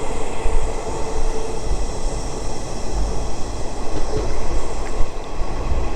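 A local train rolls over the Yamuna railway bridge, slowed down, with a loud continuous rumble and rattling wheel clatter close by and occasional heavier knocks, no voices.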